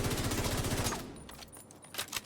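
A FAMAS assault rifle fires in Division 2, a fast automatic burst of evenly spaced shots for about a second, then fading echoes and scattered clicks.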